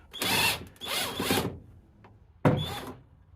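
Bursts of mechanical ratcheting or power-tool whirring as a loose nut is undone during inner wing removal on a car, three close, loud spurts with short pauses between.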